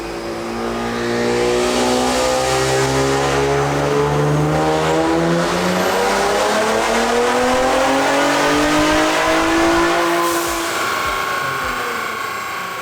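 An Infiniti Q60 with upgraded turbos and a low-pressure fuel pump revs hard on a dyno, its engine note climbing steadily through a long loud pull before easing off near the end, with no talk.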